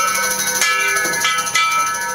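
Several hand bells ring together at a New Year gathering in a dense, shimmering wash of sustained tones, close by, with a few brighter strikes standing out.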